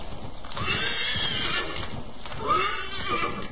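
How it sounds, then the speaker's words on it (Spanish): A startled horse in Assassin's Creed 3 neighs loudly twice, the whinnies rising and falling over steady clip-clop hoofbeats and game background noise, with no talk. "Lo que se asusta el caballo."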